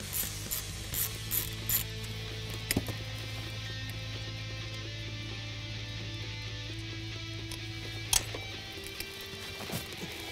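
Ratchet clicks and tool work while a ground strap is removed from a 2015-2017 Mustang GT 5.0L during a Roush supercharger install, with repeated close mechanical clicking, a few sharper knocks, and a steady low hum beneath.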